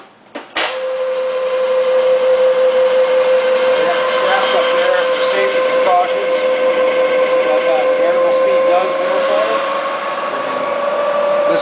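A Vectrax GSN-20V three-phase motor and drive unit starts with a click and then runs at its low setting, a loud steady whine holding a clear constant tone throughout.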